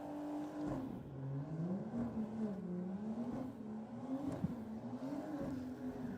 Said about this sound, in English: A huge burnout from the BMW.